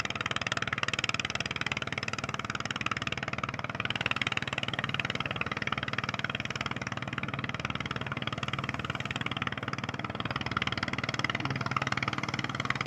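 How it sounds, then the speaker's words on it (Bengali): Engines of sand-carrying cargo boats on the Padma river drone in a low, steady, distant hum with no other distinct sounds. "বন্ধুরা দেখেন মালবাহী আপনি বালু কাটা নৌকাগুলো চলে যাচ্ছে"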